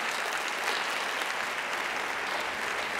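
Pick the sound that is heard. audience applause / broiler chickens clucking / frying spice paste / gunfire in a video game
audience applause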